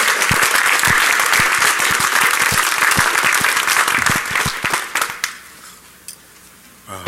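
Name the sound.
audience applause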